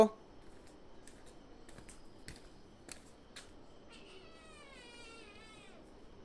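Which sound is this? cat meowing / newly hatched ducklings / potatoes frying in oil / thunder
cat meowing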